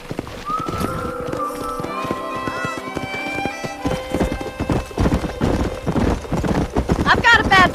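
Horse hooves clip-clop at a gallop in the 2010 Xbox 360 western video game Red Dead Redemption, close and steady beneath game music, with a horse whinnying near the end.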